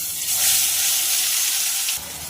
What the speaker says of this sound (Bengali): কড়াতে তেল গরম হয়ে গেছে এইবার আমি পেস্ট করে রাখা মশলাটা দিয়ে দেবো